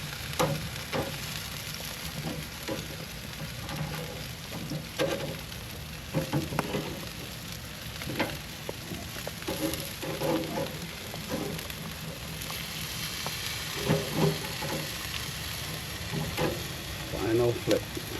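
Jamaican jerk pork fries in a pan with a steady, dense sizzle, punctuated by repeated scrapes and clacks as the pieces are flipped, continuing throughout at moderate loudness.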